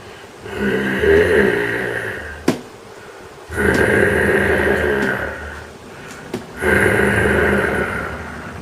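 A voice imitates a low, rough growl with snorting breath, in three long swells broken by short sharp thumps suggesting small hops, close and fairly loud.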